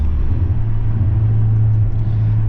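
A Stage 2 tuned Audi S3 8V with a 410 bhp engine cruises in comfort mode with its exhaust valves closed, giving a steady, loud, close low droning rumble with a constant tone and no revving.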